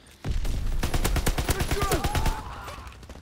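A grease gun fires in a World War II video game: a rapid burst of about a dozen close, loud automatic shots, then a fading echo tail.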